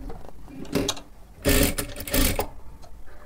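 A sewing machine runs in three short bursts while stitching blouse fabric, its motor whirring loudly for about half a second, then longer, with quiet pauses between runs and no talking.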